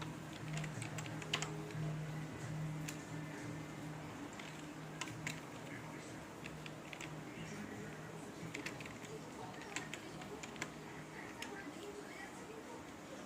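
Fingers tap on a computer keyboard in scattered, irregular clicks, faint and close, running under a steady voice giving instructions.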